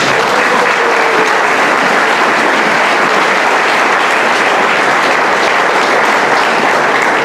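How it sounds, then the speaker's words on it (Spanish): A church congregation gives a loud, sustained round of applause at a Sunday service, dense clapping filling the room steadily from start to finish with no talk over it. "¿Cuánto le dan un fuerte aplauso al Señor por eso?"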